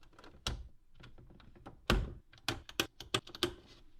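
Electrical breakers snapping on one after another to power a DIY CNC metal lathe, a run of sharp close clicks and thunks, with one heavier clunk and a quick cluster of switches near the end.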